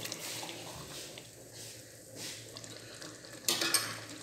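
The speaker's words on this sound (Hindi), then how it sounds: "तो मैंने ऑलरेडी ये रेडीमेड चने लिए हैं, 400 ग्राम में मैं अब इसमें ऐड करूँगा" Boiled readymade chickpeas tipped into a pan and stirred, a soft sizzle under scraping spoon movements, ending in a brief louder clatter and splash.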